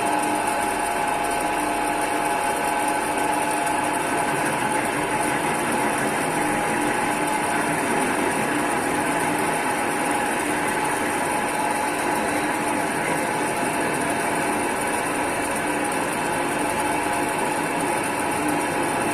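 A metal-cutting lathe runs continuously, giving off a steady mechanical hum and whine with fine vibration that holds at an even level throughout, with no talking.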